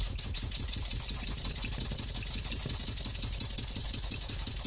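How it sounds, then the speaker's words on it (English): Three small Wig-Wag oscillating Vee engines run together at a steady pace, giving a continuous fast ticking, chuffing rattle close up with no voices. "three Wig Wag engines running"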